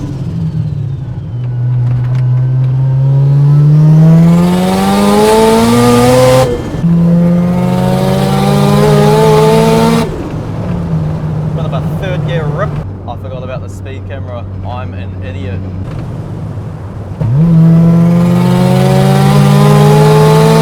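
A Mazda RX-7 rotary engine revs hard in repeated pulls, its deep buzzing tone climbing in pitch through each rise before gear changes drop it back, with a lumpy idle between runs.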